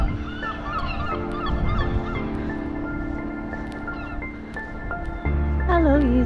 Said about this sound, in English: the Whitehaven geese